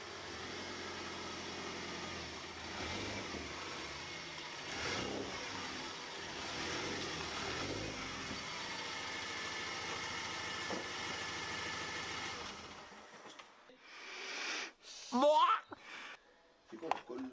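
A BMW car being driven in, its engine humming steadily at moderate volume for most of the stretch before cutting off, followed by a few short knocks and handling noises.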